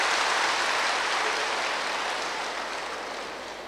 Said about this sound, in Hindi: भाई ताली बजाओ अपने लिए